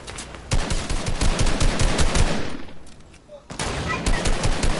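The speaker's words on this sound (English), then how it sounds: "Oh my god! He sniped me!" Sniper rifle fire in a shooter video game, a dense run of loud, sharp cracks and blasts with a brief lull near the end before the shots pick up again.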